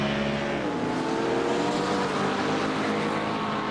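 Race car engine from a BMW in a Daytona 24-hour endurance racing video game, a steady loud drone with layered engine harmonics and no one talking.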